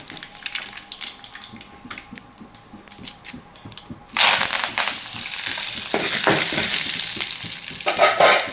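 Mustard seeds hit hot oil already holding urad dal and chana dal, tempering a tamarind-leaf chutney. After a quiet start comes a sudden loud, close, dense crackling and popping that keeps sizzling to the end.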